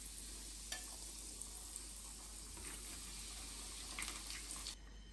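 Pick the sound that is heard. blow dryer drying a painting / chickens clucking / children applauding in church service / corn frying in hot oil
corn frying in hot oil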